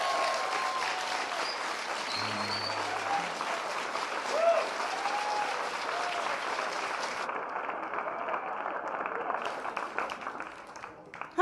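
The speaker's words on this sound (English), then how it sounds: "Let's give him another round of applause." A crowd at a morning talk-series gathering gives sustained applause, thick continuous clapping from many hands that stays loud for most of the stretch before thinning toward the end, with faint voices mixed in.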